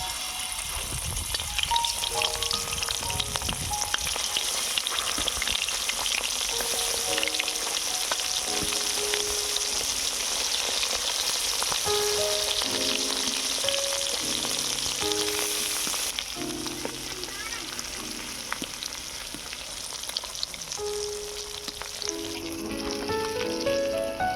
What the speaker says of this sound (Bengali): এবারে দিয়ে দেবো সরিষার তেল মাছগুলো এবারে ভেজে নেবো